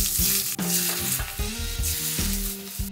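Hot avocado oil at 280 degrees poured over a ginger and scallion mixture, crackling and sizzling in loud bursts that flare with each pour and settle into a steady fizz, with no talking.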